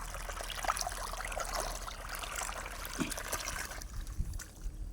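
Muddy water trickles and flows into a rice paddy plot, making a faint, continuous babble and gurgle with small splashes, and no one speaks.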